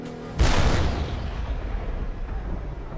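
A single heavy cannon shot from early battlefield artillery booms loudly and close, then rolls off into a long rumbling decay that fills the rest of the moment.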